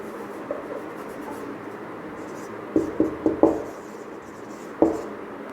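During a biology lecture, chalk or marker taps and scratches across a board in a few short, close strokes over a steady room hum, with no talk at that moment.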